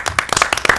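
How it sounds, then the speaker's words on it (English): A group of people clapping together on cue at a talk show taping, a dense burst of close, overlapping hand claps with no talk. "all of us gonna start clapping."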